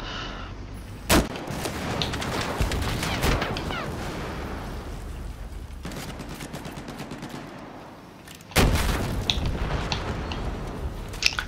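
Battlefield 4 combat with two sharp rocket blasts several seconds apart, loud and close, set against a steady rattle of gunfire and scattered shots, with no talk.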